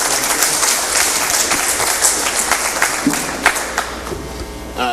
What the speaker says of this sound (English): if we can give it up for Ira and his amazing team